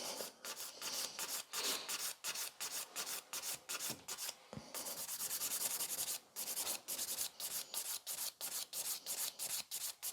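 Nail file rasping across gel nails in quick, rhythmic back-and-forth strokes, close and crisp, with one short steady stretch in the middle and brief pauses between strokes.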